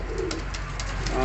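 Soft, muffled cooing from frightened pigeons, a few low throaty calls close by against a steady background hum.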